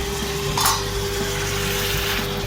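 Duck meat fries in a pan for a curry, giving a low, steady sizzle and one brief stirring scrape early on.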